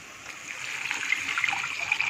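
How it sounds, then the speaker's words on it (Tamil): Tamarind water poured into a cooking pot for kuzhambu gives a steady liquid trickle with small splashes, close and moderately loud, with no talking. "புளி தண்ணியை உள்ளே ஊற்றிடலாம்."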